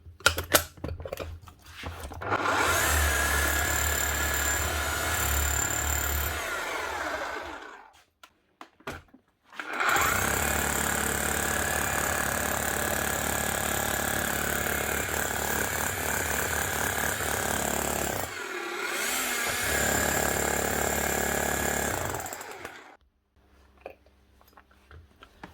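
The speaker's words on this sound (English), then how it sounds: "Now to see what she's hammering like." A Makita HR5211C rotary hammer, newly repaired, hammers loudly in three long continuous bursts with rapid rattling impacts, divided by short pauses and trailing off to quiet at the end.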